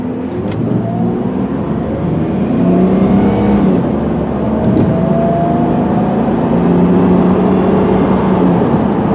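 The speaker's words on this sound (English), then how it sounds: "I'll give it a little bit more gas this time on the acceleration so you guys can see it shift through the gears a little better" A 2000 Jeep Grand Cherokee accelerates hard from inside the cabin, its engine note climbing and dropping as the automatic transmission shifts up through the gears, steady and fairly loud throughout with no talking.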